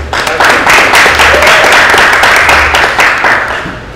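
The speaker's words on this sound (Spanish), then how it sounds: "un aplauso para vos" Applause from an audience at a community gathering, dense clapping that stays fairly loud and steady for the whole stretch, then tapers off slightly near the end, with no talk over it.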